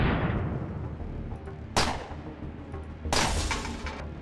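A flashbang grenade going off in the game Underrail, two sharp bursts about a second and a half apart, each with a bright hissing tail over a steady low rumble, fairly close and loud with no talking.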